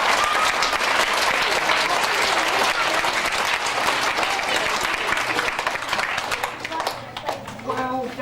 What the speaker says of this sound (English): we need to clap for people then who were nominated